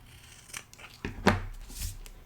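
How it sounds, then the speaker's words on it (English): Sharp scissors snip through a length of ribbon at an angle, giving a few crisp, close cutting clicks and rasps spaced across a couple of seconds at a craft table. "So let's get some sharp scissors."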